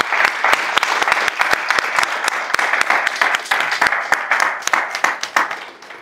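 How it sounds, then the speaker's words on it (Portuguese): An audience applauds everyone, with dense, loud clapping from many hands and sharp individual claps standing out, sustained for several seconds before tapering off. "uma salva de palmas para todos vocês"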